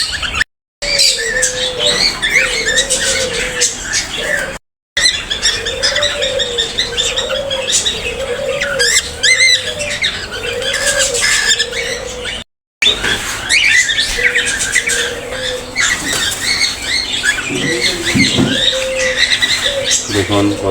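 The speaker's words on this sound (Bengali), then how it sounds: "অনেক রকমের পাখি আছে এখানে" A flock of many kinds of birds, young birds among them, calling at close range: a busy mix of chirps, coos and squawks with some wing flapping, and a few short pauses.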